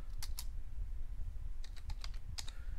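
Short bursts of keystrokes on a computer keyboard, a couple of quick taps, a pause, then a rapid cluster of clicks, close up over a low steady room hum.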